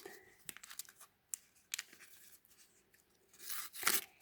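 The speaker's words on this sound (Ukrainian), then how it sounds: "тепер розпаковуємо пакетик сам" Paper crinkles and tears in short bursts, ending in a louder, longer rip close to the microphone.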